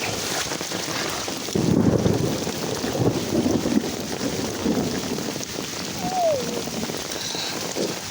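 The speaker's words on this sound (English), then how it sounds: "We need the rain because it's not rained here in 3 weeks, almost a month." Steady rain falls outdoors as a dense, even hiss with gusts of wind buffeting the microphone, louder around the second and third seconds, with no talking.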